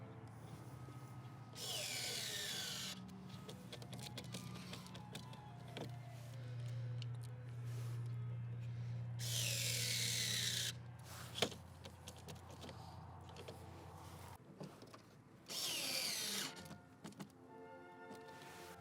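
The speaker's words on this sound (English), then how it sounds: "we got a handful of screws on the back side to screw in" A power drill drives screws into the back of a plastic Subaru STI bumper cover in several short bursts of whirring, separated by quiet pauses, with a hum and a few clicks and knocks close by.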